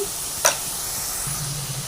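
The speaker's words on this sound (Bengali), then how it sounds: "আমার তেলটা গরম হয়ে গেছে, আমি আলু কিছু ভেজে নেবো লাল লাল করে।" Potatoes frying in hot oil in a kadai with turmeric and salt, a steady soft sizzle throughout with one brief sharper hiss or clink near the start.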